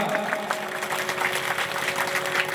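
An audience at a religious katha telling the Sundarkand claps in a dense, continuous patter of many hands, steady and fairly loud with no voices over it.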